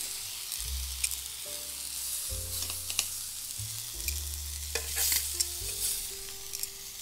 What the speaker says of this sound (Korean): 토마토도 굽겠습니다. 마늘 4쪽도 이렇게 구워주세요.